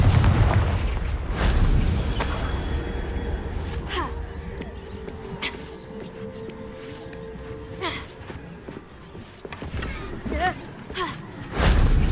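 A Confringo spell blast in the Hogwarts Legacy video game: several booming explosive bursts, strongest at the start and again near the end, with a low rumble and crackle between them.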